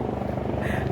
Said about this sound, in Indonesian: Ada helikopter lewat.